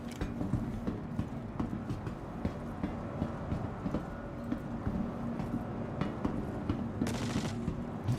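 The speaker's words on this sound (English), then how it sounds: "I was getting shot at, but I have no idea from where." Rapid bursts of gunfire from the Star Citizen video game crackle in quick, uneven volleys, loud and close, running throughout with sharp repeated impacts and no talking.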